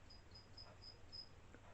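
Crickets chirp in a steady pulsing series of short high trills, faint against a quiet background with no one talking.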